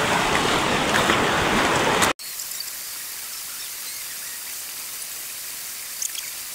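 A flowing river stream rushes steadily, loud and close at first, then continues as a softer, even wash of water after an abrupt drop in level.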